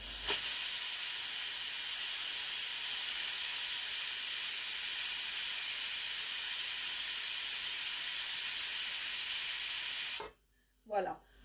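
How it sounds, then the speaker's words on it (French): A pressure cooker releases a loud, continuous steam hiss while cooking beef Chettinad, sustained for about ten seconds before abruptly cutting off, followed by brief fainter sounds. "Donc là, ça fait le 4e sifflet."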